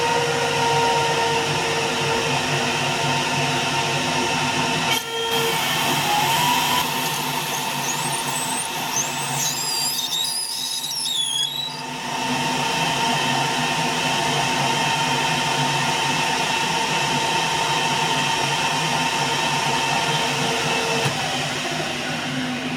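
A Victor metal lathe parting off a steel handle, a loud steady machine whine with tonal cutting hum and a brief squealing chatter near the middle, running alone without talk.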